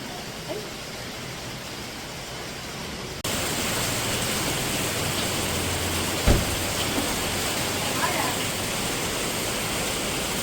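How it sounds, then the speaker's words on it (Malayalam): Heavy rain pours down steadily as a dense, continuous hiss, stepping louder partway through, with a brief knock or thud near the middle. "നല്ല മഴ പെയ്യുണ്ട്."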